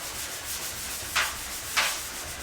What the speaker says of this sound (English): do a little bit of sand in here